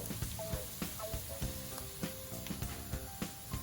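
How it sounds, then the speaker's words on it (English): Hot oil sizzles and crackles steadily before toad-in-the-hole batter goes in, with frequent sharp pops and clicks of utensils against a pan, close and fairly quiet. "can hear it sizzling away"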